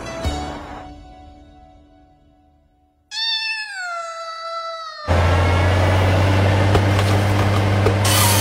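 A cat meows in an anime scene, a clear drawn-out mew with a falling pitch in the middle, preceded by quieter rustling and followed by a loud sustained rumbling noise.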